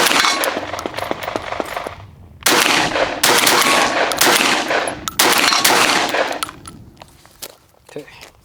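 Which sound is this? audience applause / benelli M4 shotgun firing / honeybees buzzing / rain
benelli M4 shotgun firing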